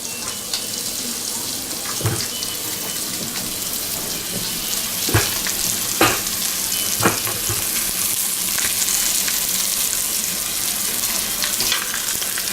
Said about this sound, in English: I smell them pork fingers browning pretty good there. And I hear them too